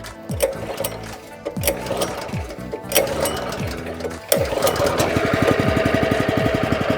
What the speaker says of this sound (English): we're gonna crank it up for the very first time.